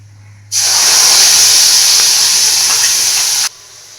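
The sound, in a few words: tomato and green chili paste sizzling in hot oil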